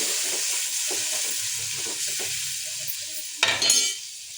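Chili and tomato sizzling in a pan for a peanut-powder palya, a steady hiss with soft stirring scrapes, then a sharp louder burst of sizzle near the end as the tomato hits the oil.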